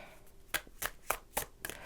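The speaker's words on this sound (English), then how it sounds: "As I'm shuffling here to pick 3 cards for you" Tarot cards being shuffled by hand, five sharp riffling snaps in an even rhythm about a quarter second apart, close and fairly quiet with no talking.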